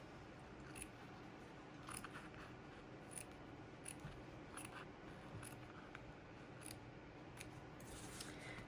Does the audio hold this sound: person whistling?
no